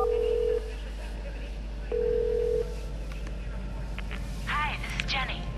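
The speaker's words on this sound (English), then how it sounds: "we need to dial Jenny's home number" Phone number dialed in the video game The Darkness: a few steady keypad tones, then quick beeps of separate digits, over a low background hum and some talk.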